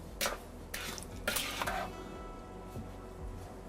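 Spoon stirring squash croquette mixture with cooled onions in a bowl, giving a few sharp scraping clinks followed by softer, quieter mixing scrapes, close and fairly faint.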